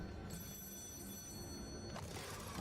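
A telephone rings continuously with a steady electronic bell tone over a noisy room background, no talking heard during the ring.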